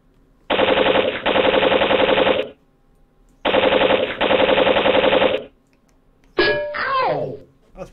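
A machine gun sound effect fires two loud, sustained bursts of rapid shots, each about two seconds long with a short gap between them, followed by a brief voice cry.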